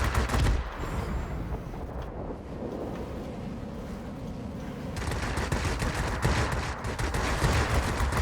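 Aircraft guns chatter in bursts during a World of Warplanes battle in a Sea Hawk multi-role fighter, loud and dense at the start, easing into a wind-like engine drone, then returning as sustained rapid fire.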